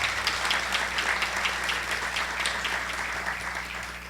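An audience at a history forum applauds steadily, a dense patter of many hands clapping at moderate volume for a few seconds.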